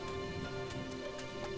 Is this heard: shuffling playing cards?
no